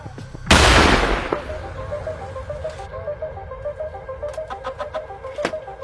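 A single sharp, loud detonator blast goes off during mortar infantry training, its boom decaying over a second, followed by a faint repeating electronic beep and background noise.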